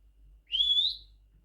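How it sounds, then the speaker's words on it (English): A young Quaker parrot gives a single short rising whistle, clear and close, in an otherwise quiet room with a low background hum. "I like your whistling."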